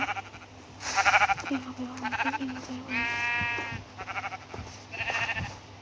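Sheep in the Minecraft video game bleat several times in wavering, nasal calls, close and clear, with a player's voice briefly talking around them.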